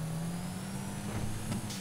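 A modified turbocharged car engine in GTA 5 holds a steady, loud drone with a constant low tone and a faint turbo whine above it, with no talking.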